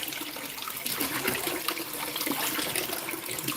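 A gold sluice running concentrate, water rushing and splashing steadily through it at moderate loudness without pause, close by.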